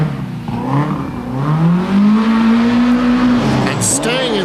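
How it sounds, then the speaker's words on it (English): A Lotus Sunbeam rally car slides on opposite lock at the 1991 Lurgan Park Rally, its engine note climbing steadily and holding high before dropping off, loud and close, with a commentator's voice running over it. "Stephen McWhinney, who opposite locks his Lotus Sunbeam to 9th place"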